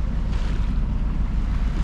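A sailboat motoring under engine on a calm sea, crossing from Ajaccio in Corsica. A steady low engine rumble mixes with wind buffeting the microphone and water wash, continuous and fairly loud, with no voices.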